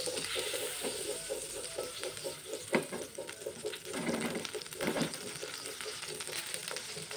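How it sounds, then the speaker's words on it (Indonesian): Margarine, two tablespoons, melts and sizzles in a hot frying pan with a steady crackling fry, close and fairly loud, with a few stirring scrapes before bananas go in. "Panaskan 2 sendok makan margarin. Kita tunggu sampai leleh semua ya."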